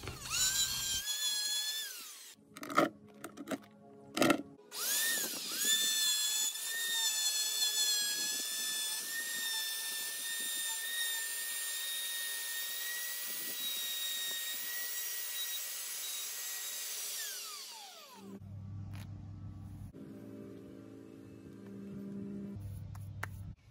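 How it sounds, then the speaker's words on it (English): An air rotary tool with a medium 150-grit abrasive sands down a metal barrel, a loud sustained high-pitched whine with brief start-stop bursts at first, then a long steady run before spinning down into quieter background noise. "I used an air rotary tool with a medium 150 grit to sand down the barrel."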